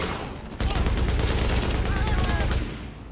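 Gunfire in the video game The Division, a dense burst of shots that starts abruptly and continues loudly for a couple of seconds before cutting off.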